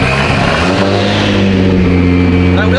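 BMW with a swapped JZ engine and turbo, loud close revving with rising and falling engine pitch, harmonics climbing near the end, continuous and dominant throughout.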